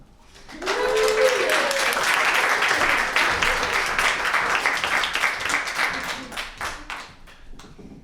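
Audience applause at a spoken word poetry slam in Fitzroy Library, Melbourne, a steady crowd clapping that swells quickly, holds for several seconds and thins out toward the end, with a voice calling out over the first moments.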